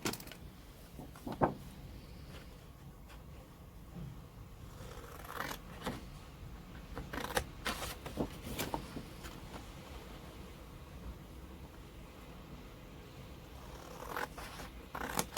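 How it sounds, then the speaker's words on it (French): Scissors snipping the four corner squares off a sheet of paper for a scrapbook surprise box, heard as scattered quiet cuts and rustles at close range over a faint room background, with no talking. "Donc je coupe les 4 carrés et je vous retrouve."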